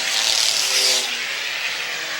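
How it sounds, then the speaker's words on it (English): Race cars roar around an oval short track during an end-of-season enduro at Airborne Speedway in Plattsburgh, New York, a loud close pass that fades into a steady distant engine drone. "we're down to about 40 cars on the racetrack"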